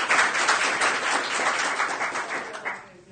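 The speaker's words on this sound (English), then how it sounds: "I appreciate the applause" An audience at a council meeting breaks into dense, steady applause from many hands, holding level before thinning and fading away near the end.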